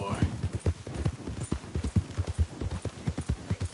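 Horse hooves clip-clop at a steady trot in Red Dead Redemption 2, a brisk, even rhythm of loud, close hoofbeats with a voice speaking over them.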